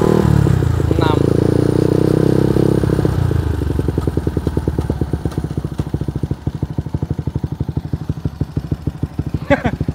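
A Yamaha NJMX 177cc motorcycle in road race spec revs with a buzzing engine tone, then settles into a rapid, regular idle pulse with mechanical clatter; a voice speaks near the start.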